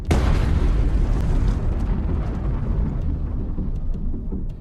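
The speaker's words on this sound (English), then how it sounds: "Ammunition detonates, causing a powerful explosion." Ammunition detonating inside a Gvozdika self-propelled gun after a drone strike, one powerful explosion with a sharp onset followed by a long rolling roar that slowly fades.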